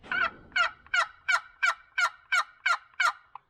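A nearly forty-year-old hand turkey call sounding a gobble: about nine rapid, evenly spaced yelping bursts, loud and close, with no other sounds behind them.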